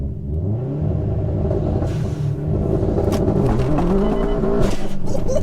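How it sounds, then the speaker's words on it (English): A 488bhp Subaru WRX STI roars through a rolling launch with all four wheels spinning, its engine loud and close, pitch climbing steadily, with tire noise mixed into the sustained rumble. "Like all 4 wheels are spinning and we're going to the side."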